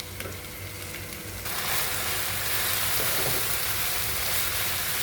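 Tomatoes drop into hot oil with broad beans in a pan for a Telugu-style curry, and a loud, steady sizzle swells suddenly after the first second and keeps hissing.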